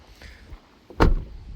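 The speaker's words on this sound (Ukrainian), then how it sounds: "Ну і двері зачиняються дуже масивно." A Toyota Land Cruiser 4.5 diesel door swings shut with a heavy, solid thud, preceded by faint handling clicks, then a brief low resonant decay; close and fairly loud.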